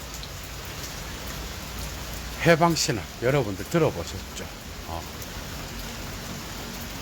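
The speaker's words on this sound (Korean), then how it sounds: "비가 오고 있습니다." Steady rain falls throughout as a continuous hiss, with someone talking in a calm, close voice over it.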